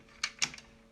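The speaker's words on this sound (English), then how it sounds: "you need to hear the click." A couple of quick, light plastic clicks snap close by in a quiet room as an ink cartridge seats in a Canon ImageCLASS MF8580Cdw printer, followed by a fainter tick.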